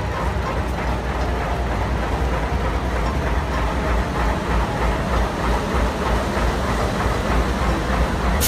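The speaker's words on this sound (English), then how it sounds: "This is the train we'll be going to." A small amusement park ride-on train runs along its track on a bee farm, giving a steady, continuous rumble and clatter at close range for the whole stretch, fairly loud with no clear talk over it.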